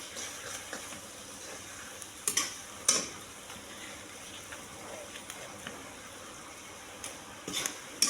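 Tomatoes fry quietly in a pan for a suran (jimikand) curry, a soft low sizzle broken by a few sharp clacks and taps of a utensil against the pan.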